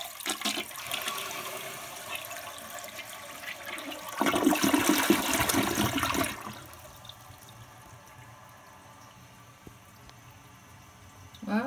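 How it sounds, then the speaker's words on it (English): A household toilet with hard-water stains flushes in a loud surging rush of water lasting a couple of seconds, then settles into a quieter trickling refill that continues to the end. "Okay, let's give it a flush."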